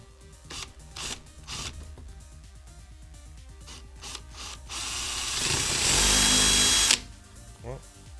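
A power drill whirs in a loud, sustained burst after a run of rhythmic mechanical clicks and short bursts, with faint voices in the background.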